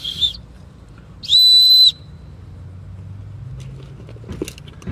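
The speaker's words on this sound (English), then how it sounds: "and a whistle." Whistle built into a survival multi-tool from a hurricane go bag: two shrill blasts, a short one followed by a longer steady one, loud and close, with a faint low rumble and small handling noises in between.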